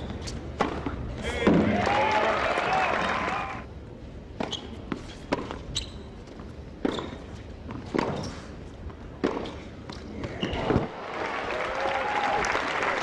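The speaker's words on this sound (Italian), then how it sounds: "Altri applausi." Tennis crowd applause at a Delray Beach match, bursts of clapping at the start and end with thumps in between, while a commentator's voice runs over parts of it.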